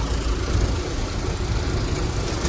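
A motorbike idling nearby, a steady low engine drone that holds even and unbroken throughout with no voices over it.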